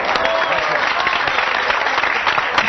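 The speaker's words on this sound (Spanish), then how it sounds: "Fuerte el aplauso para Pablo también." Steady, dense applause from a crowd fills the whole stretch, loud and continuous, with voices faintly mixed in.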